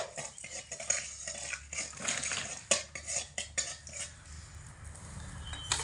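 Salt and a pinch of turmeric stirred into hot oil in a pan, with a utensil clinking and scraping against the metal in irregular bursts, close by and moderately loud, no talking.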